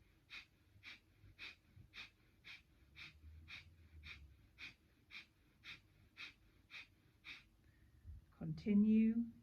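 Breath of fire, a rapid kundalini yoga breathing exercise, is heard as a steady train of quick, even, sharp nasal breaths, close and fairly faint, ending with a louder gasping breath.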